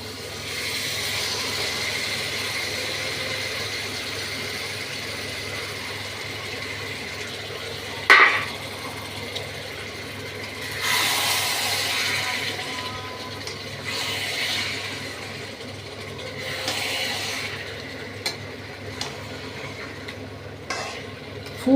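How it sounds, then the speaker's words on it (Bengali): Chicken goes into a spiced masala, with oil already separating at the edges, and is stirred in for a shahi gravy chicken. A soft, steady sizzle carries intermittent scraping stirs and a sharp clink. No one speaks. "এখন আমি চিকেনটা দিয়ে দিচ্ছি।"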